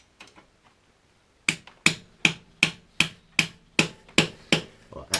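A spanner works on a seized nut, giving a regular series of about ten sharp metallic clicks, loud and close, after a few faint taps and a brief pause.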